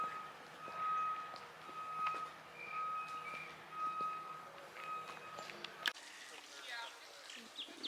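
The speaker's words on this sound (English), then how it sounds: "the beeping behind us that you hear, they are constructing a new exhibit" Steady electronic reversing beeps from a construction vehicle at an exhibit building site repeat at an even pace in the distance, under a person talking and faint outdoor background noise at botanical gardens in San Antonio.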